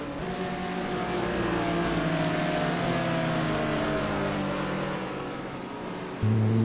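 Touring cars in the STC Black Cup race around the Anderstorp circuit, engines rising in pitch as they pass, with several overlapping revving tones, and a louder car surging close at the end.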